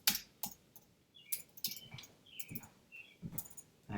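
Typing on a computer keyboard: sparse, irregular key clicks and taps, quiet and close, arriving in small uneven bursts with short pauses between them.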